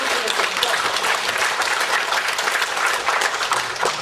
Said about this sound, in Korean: 한 번 더 뜨거운 박수를 보내드리고